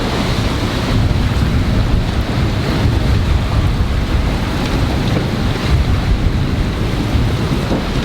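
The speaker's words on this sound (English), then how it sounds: "You can see the waves." Ocean waves in a 50-knot storm around a sailboat, with a constant loud roar of wind and surging water and no voices.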